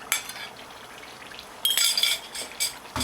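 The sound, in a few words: scrambled eggs added to frying potato mixture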